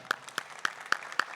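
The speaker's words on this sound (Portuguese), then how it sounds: "Pode se aplaudir" Sparse claps ring out during a Catholic Mass, with a few distinct, evenly spaced hand claps echoing in a quiet church.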